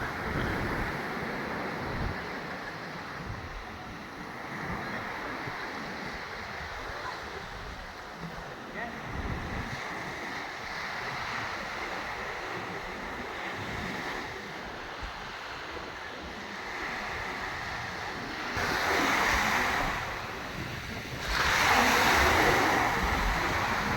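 Sea waves wash steadily onto a clean sandy beach in a cool breeze, with constant wind rumble on the microphone and two louder surf surges near the end.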